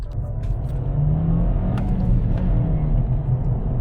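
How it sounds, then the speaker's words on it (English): A 2017 VW Scirocco GT engine revving with a deep, steady rumble, loud and close, holding throughout. "it does make a decent noise too, this car does. Like, the engine sound, it's alright."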